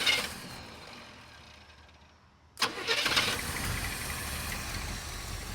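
A one-year-only square body truck that sat for over a decade cranks after a quiet lull, catching abruptly and settling into a loud, steady running rumble close by.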